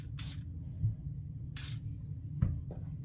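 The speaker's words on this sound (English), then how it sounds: "let's give it a little bit of a spray" Oil sprayed onto the barrel of an S&W Equalizer pistol, with two short hissing bursts from an aerosol can over a low steady background hum.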